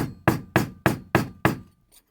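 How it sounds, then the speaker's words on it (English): A hammer strikes metal blocks to flatten them during slip-joint knife making: five evenly spaced sharp taps, close and loud, then a faint sixth. "Just give it some nice tickles with the hammer."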